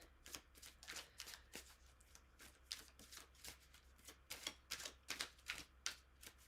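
Playing cards are shuffled by hand, producing a fast run of crisp riffling taps that come in uneven bursts, close up and soft, with no talking.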